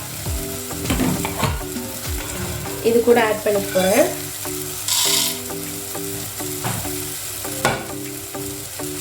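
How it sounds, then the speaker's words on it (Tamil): Horse gram grains crackle and rattle as they roast dry in a pan and are stirred, with scraping and clicking up close while a person talks over it. "இது வந்து நம்ம கொள்ளும் நல்லா அருந்துச்சு பாருங்கள்"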